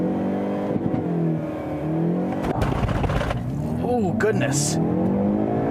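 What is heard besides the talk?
2019 Hyundai Veloster accelerating hard with wheel hop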